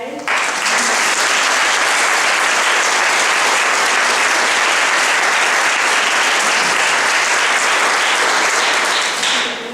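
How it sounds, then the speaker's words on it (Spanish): A hall audience at a historical memory event in Bácor-Olivar bursts into sustained, loud applause that fills nearly ten seconds at an even level with dense overlapping claps. "Os pido un aplauso para él."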